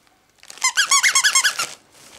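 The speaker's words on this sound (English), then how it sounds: "That's squeaky balls." Squeaky toy balls squeak in a quick run of about eight bright, high, close squeaks, loud and evenly paced, then fall away to quiet.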